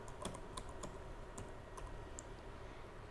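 Keystrokes on a computer keyboard as Python code is typed, a steady run of sharp, close clicks with no voices.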